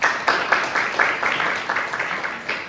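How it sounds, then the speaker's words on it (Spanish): Classmates in a Spanish-language anatomy review class give a brief round of applause, a dense patter of claps from a small group in a room that fades slightly toward the end. "Un aplauso para la compañera."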